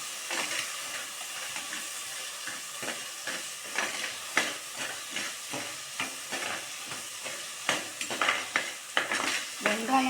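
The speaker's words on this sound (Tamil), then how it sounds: "இப்போது தக்காளி ஆட் பண்ணிக்கலாம். எல்லாத்தையும் போட்டு நல்லா வதக்கணும் ஃப்ரெண்ட்ஸ்." Onions and tomatoes sautéing in a pan, soft sizzle broken by repeated rhythmic scraping strokes of a spoon stirring, growing busier toward the end.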